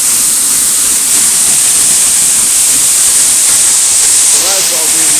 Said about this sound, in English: There's the waterfall. I'm behind it.